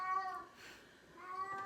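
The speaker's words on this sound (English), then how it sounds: "you hear the cat?" An indoor house cat meows twice with a pause between, a wavering, fairly close cry wanting to go outside, with no talking.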